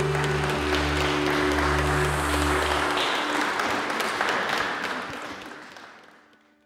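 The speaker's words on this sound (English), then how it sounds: "And give them a clap." A wedding crowd applauds the newly married couple warmly, steady clapping over a low sustained tone that fades out toward the end.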